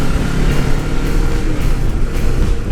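A motorcycle engine revs and speeds up in traffic, a loud, steady drone with wind buffeting over it, running continuously with no speech.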